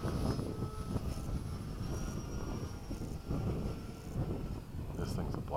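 A small Sunset Hawk airplane flies at an airfield, its engine a steady, moderately loud droning rumble that holds throughout the clip.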